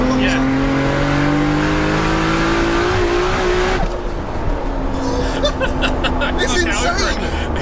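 A 1000 BHP Toyota Supra roars through a long, sustained rev on a rolling launch, loud and close, with crowd babble underneath.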